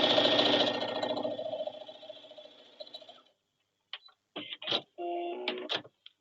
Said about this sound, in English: So we're going to sew 1/4 inch down each strip to make a strip set of 4.